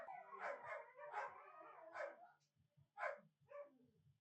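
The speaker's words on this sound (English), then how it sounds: "I have 6 huskies, in case that wasn't apparent by the howls coming from the other room." Huskies howl and bark from another room, a series of drawn-out, wavering howls followed by a few shorter yips, faint and distant-sounding with pauses between calls.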